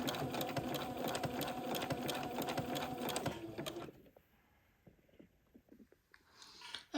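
A sewing machine zigzag stitches down a seam on a doll dress, a loud fast rhythmic whir for about four seconds that then stops, leaving quiet handling sounds.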